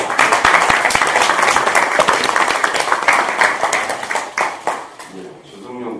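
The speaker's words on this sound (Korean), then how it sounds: "박수 한번 칠까요?" Dense, steady clapping from an audience at a political party leadership meeting, loud and sustained for several seconds before thinning out and fading, with a voice starting to speak at the very end.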